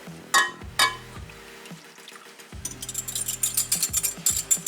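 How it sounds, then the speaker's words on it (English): Whisked eggs poured into a pan for a 1950s retro caramel cream cake, starting with two sharp clinks, then a soft, steady pouring trickle close by, with no talking. "you want to pour it in there."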